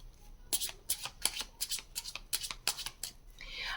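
Tarot cards being riffled and shuffled by hand, a quick series of crisp flutters and slaps with a few cards dropping out, close and fairly quiet with no talking.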